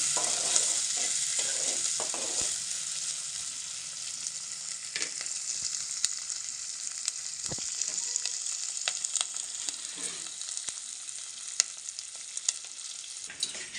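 Onions and green chillies crackling in hot oil in a pan, a steady bright sizzle that eases slightly after the start, dotted with sharp pops and occasional stirring clicks, heard alone without voices.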